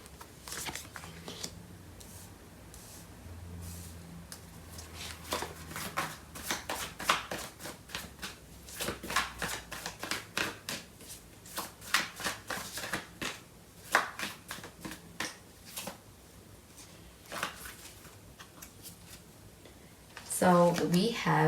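Tarot cards being shuffled by hand during a reading: a long run of soft, rapid riffling flicks and taps, close and fairly quiet, with a louder handling rustle at the end.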